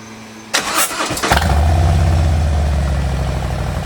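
Harley Ultra with a Cobra Turn Out 2-into-1 exhaust cranks briefly, fires up loudly and settles into a deep, steady rumbling idle, close by with no talk.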